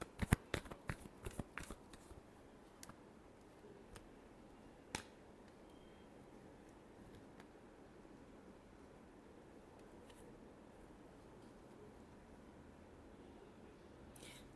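Tarot cards being shuffled by hand, a quick burst of crisp riffling snaps at the start, then a few isolated card taps over near silence.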